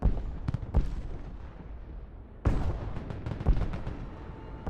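A missile launcher firing in Broken Arrow, heavy launch blasts and booming reports in bursts, a sharp onset midway followed by rumbling, repeated cracks of battle nearby.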